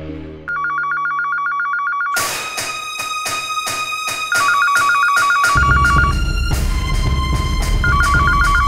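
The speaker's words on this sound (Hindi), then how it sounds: "कीर्ति फोन कर रही है।" A home landline telephone rings loudly and repeatedly in a television drama scene, its bright electronic ring pulsing in a steady rhythm over a musical score, close and dominant throughout.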